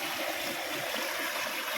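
Rainwater rushes steadily through a hand-dug gutter during a monsoon downpour, a continuous, close hiss of flowing water with no voices.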